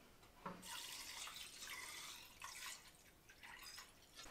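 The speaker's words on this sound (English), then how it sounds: "We strained it once and I'm about to strain it again." Hot rendered lard strained and poured, a steady close trickle of liquid streaming through a strainer for several seconds with small splashy variations and no talk.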